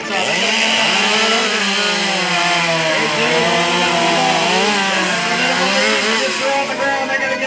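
A loud chainsaw engine roars continuously at a lumberjack show, its pitch wavering slightly as it bites into a log, with no pauses.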